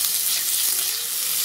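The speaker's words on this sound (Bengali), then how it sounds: "এবার আমরা এই পনিরটাকে একটু ফ্রাই করে নেব।" Paneer frying in oil in a wok gives off an even, continuous sizzling hiss at a moderate level, with no stirring accents or voices.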